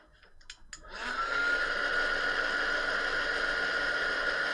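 A heat tool blows steadily over a freshly coloured card-making project, a loud continuous whirring hiss that kicks in after a second and holds even and unbroken, with no voices over it.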